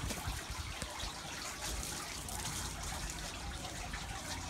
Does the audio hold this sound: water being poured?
yes